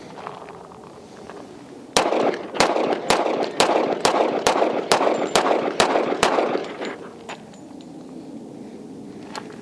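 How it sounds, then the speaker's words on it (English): A Kimber Rapide .45 1911 pistol fires about eleven sharp, loud shots in a steady, fairly quick string, each crack ringing briefly before the next. Quieter outdoor ambience comes before and after the shots. "This would be probably my third time in my life shooting a 45 1911"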